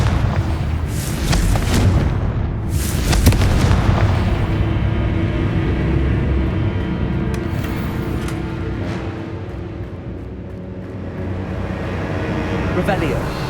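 Blasting-spell explosions in the Hogwarts Legacy video game: a couple of sharp, loud booms near the start that decay into a long rumbling tail, with a voice casting the spell.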